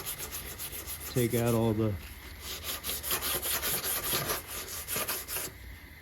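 Hand sanding of car bodywork under a fender with 150 grit sandpaper, a steady close scraping rub in quick back-and-forth strokes, with a brief spoken phrase near the start.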